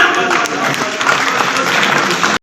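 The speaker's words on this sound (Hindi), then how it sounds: "तो जोरदार तालियां" Loud, dense applause from a large audience at a Seva Samarpan Diwas gathering, sustained clapping filling the whole stretch before cutting off abruptly at the end.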